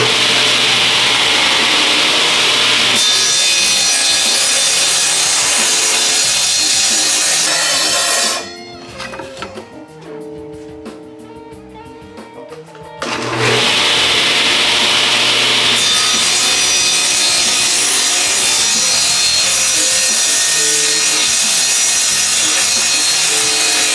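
A table saw cuts wood on a crosscut jig, loud and close, with a steady whining roar that drops to a quieter hum for a few seconds mid-cut before the full cutting noise returns and holds.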